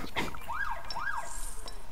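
An ambulance siren in the SimCity 5 city-building game gives two rising-and-falling wails in a row, fairly faint, among small clicks and interface sounds.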